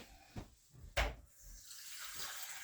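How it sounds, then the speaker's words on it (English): Tap water runs at a kitchen sink, drawn for mixing flour dough for Jamaican johnnycakes. A couple of soft knocks and a clunk lead into a steady, faint stream of flowing water. "Let me get some water for mixing."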